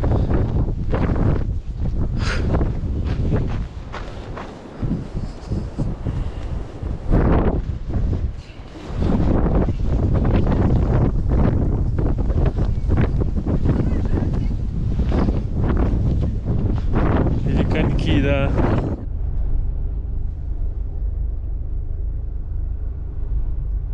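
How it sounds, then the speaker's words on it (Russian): Strong gale in the mountains of Ossetia during a snowstorm buffets a car and roars across the microphone in heavy, continuous gusts, loud and close, then drops to a low steady rumble near the end. "Ветер такой сильный дует, что машину шатает."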